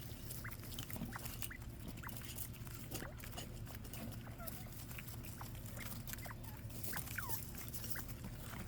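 Small quail calling from an enclosure, repeated short chirps and whistles scattered across a low continuous hum, faint and somewhat distant, with occasional light background noise.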